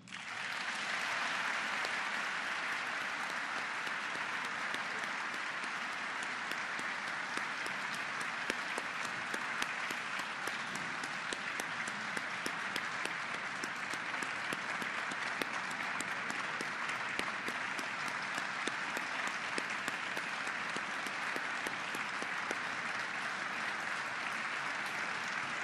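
Sustained applause from an audience honoring World War Two Ghost Army veterans at a Congressional Gold Medal ceremony, a broad, even roar of clapping held at a moderate, distant-sounding level for the whole stretch.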